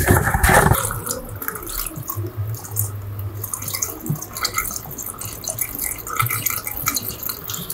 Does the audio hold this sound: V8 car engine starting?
no